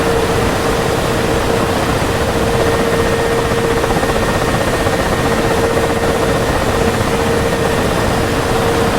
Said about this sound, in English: And cutoff right up, and she's going. Right, so that is my engines going then.